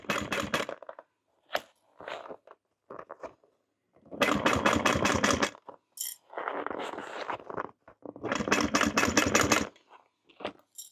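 A sewing machine runs in bursts while top stitching a fabric bag, with several loud stretches of rapid mechanical stitching separated by short pauses and handling clicks.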